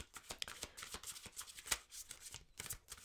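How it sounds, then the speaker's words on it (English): Oracle cards are shuffled close by in a quiet room, giving a soft, continuous run of papery riffles and flicks with a few sharper snaps. "let's pull a final oracle card"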